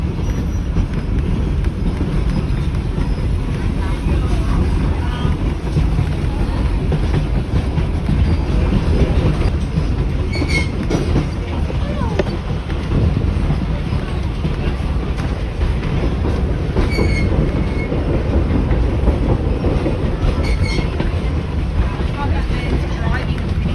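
Mary Valley Rattler heritage train running from Gympie to Amamoor, heard from on board as a steady loud rumble and rattle of the carriages throughout, with occasional soft squeals and some people talking faintly under the noise.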